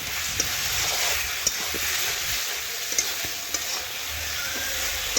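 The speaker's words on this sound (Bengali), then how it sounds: "এই দেখুন এইভাবে নাড়াচাড়া করে সমস্ত কিছু আবার একটু কষিয়ে নিচ্ছি" Chicken with bay leaves and green chillies sizzles steadily in a hot pan while a utensil stirs it, giving occasional soft scraping clicks over a continuous dense frying hiss, close up with no voices.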